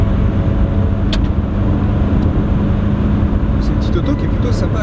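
A 1979 Renault 20 TS with its 2-litre engine and four-speed gearbox, heard from inside while driving: a steady loud engine and road rumble throughout, with a couple of brief clicks.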